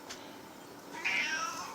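A domestic cat gives a single clear, close meow in a quiet indoor room.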